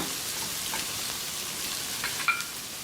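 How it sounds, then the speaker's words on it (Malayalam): Curry leaves sauté in hot oil in a pan for a Kerala-style kanthari chicken. A soft, steady sizzle runs throughout, broken by light scraping stir strokes and one sharp clink near the end, with no voices. "ഞാനതൊന്ന് നല്ലപോലെ ഒന്ന് ഇളക്കി കൊടുക്കണം. ഒന്ന് നന്നായിട്ട് വഴന്ന് വരണേ."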